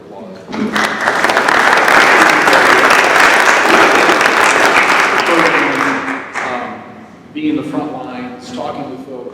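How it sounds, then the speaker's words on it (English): An audience breaks into loud, sustained applause from a full crowd, which swells quickly and then fades as a voice begins speaking over the last scattered claps. "please give her a round of applause."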